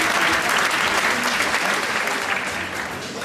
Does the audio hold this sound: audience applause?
yes